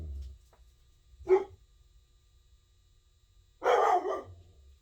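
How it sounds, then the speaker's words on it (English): A puppy barking at the neighbors, with two separate barks, a short sharp one and then a longer, louder burst, against a quiet room. "Sorry about the puppy dog."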